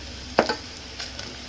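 Mutton trotters dropped into a pan of frying onions give one brief, loud sizzling burst, which settles into a low, steady frying hiss with faint clinks.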